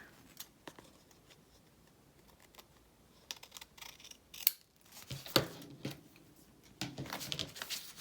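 Scissors snip to trim off excess paper on a Christmas pocket craft, giving a few sparse, close, crisp cuts with small handling clicks and rustles between them in a quiet room.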